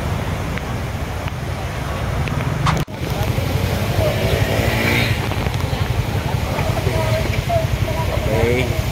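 Stock motorcycle riding through deep flood water in heavy rain, engine rumble under continuous splashing and rushing water, with a sharp jolt partway through and talk over the noise.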